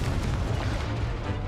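The Confringo fire spell in Hogwarts Legacy bursts in a loud, dense roar of explosive noise that fills the whole short moment without pause.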